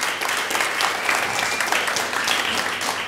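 Audience applauds a band during a live broadcast show at Kulturhuset Banken, with steady, dense clapping from a sizeable crowd that holds even throughout, up close and with no voices over it.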